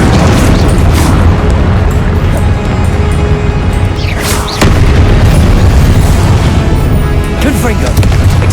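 A loud, booming blast effect for a Confringo spell rolls through a noisy scene, deep rumbling bursts layered with crackling, while a voice shouts over it.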